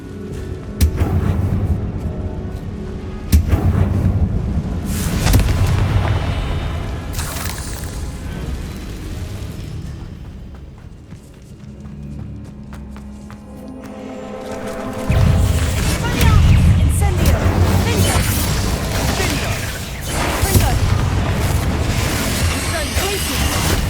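Spell-blast explosions from the Bombarda and Confringo spells in Hogwarts Legacy, a series of loud booming bursts and crashes with a quieter lull midway, mixed with game sounds and voices.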